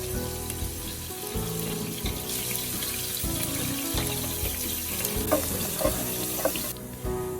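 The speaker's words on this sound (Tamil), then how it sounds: "வெங்காயம் போட்டு கொஞ்சம் நேரம் ஃப்ரை பண்ணுறோம்" Onions fry in a pan for mutton chukka, a steady sizzle with clinks and scrapes of stirring and a watery, running-tap quality, no voices.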